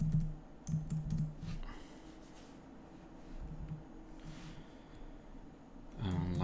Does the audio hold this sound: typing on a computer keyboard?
yes